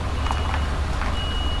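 A reversing truck's warning beeper sounds in steady, evenly spaced tones over a constant low diesel engine rumble, heard from inside or near the cab as the lorry backs out onto a road.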